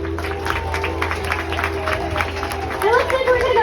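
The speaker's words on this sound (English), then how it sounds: "so you can give him a big round of applause." Spectators at a dolphin show at the Gulfarium in Destin, Florida, begin clapping and cheering late in the moment, rising under a trainer's amplified talk and crowd murmur.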